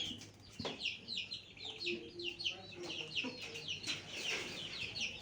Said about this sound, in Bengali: আর এখানে আছে অনেকগুলো মুরগির বাচ্চা।